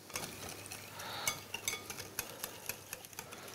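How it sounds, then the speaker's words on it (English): Warm water, sugar and pure vanilla extract are whisked in a bowl: a steady run of light, rapid scraping and clinking strokes, close and fairly quiet, with no talking. "I'll give those a whisk."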